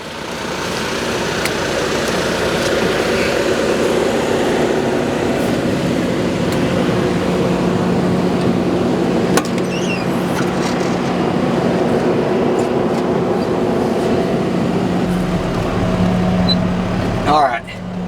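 A heavy engine drones continuously as a machine pulls a stuck bulldozer out of a swamp, a steady loud mechanical rumble with a sustained low hum throughout and a brief clank near the end.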